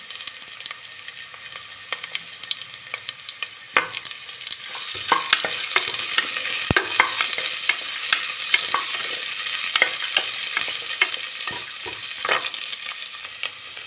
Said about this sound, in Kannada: ಹಸಿಮೆಣಸಿನಕಾಯಿ, ಬೆಳ್ಳುಳ್ಳಿ, ಶುಂಠಿ, ಚಕ್ಕೆ, ಲವಂಗ, ಮೆಣಸು ಇದೆಲ್ಲ ಫ್ರೈ ಮಾಡ್ಕೊಳ್ಳೋಣ.